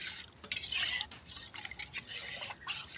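A thick date-jaggery pitha mixture stirred continuously in a pot over a stove, making a soft, wet, sloshing scrape that rises and falls, close and faint.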